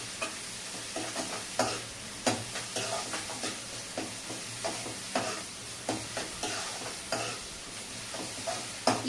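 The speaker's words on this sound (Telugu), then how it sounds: "ఈ విధంగా ఉల్లిపాయలు, పచ్చిమిర్చి వేసేసుకున్నాము. ఇప్పుడు వీటిని ఒకసారి కలుపుకుందాము." Onions and green chillies fry in a pan while a spoon stirs them in repeated scraping strokes over a constant sizzle, close and fairly loud, with no voices.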